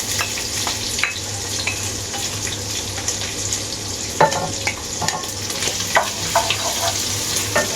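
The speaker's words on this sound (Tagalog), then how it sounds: "Pinusta ko lang yung karne." Meat sizzles and sautés steadily in a hot pan at close range, a constant frying hiss broken by occasional clinks and scrapes of a utensil stirring, with no one talking.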